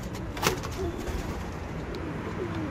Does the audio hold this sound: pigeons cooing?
yes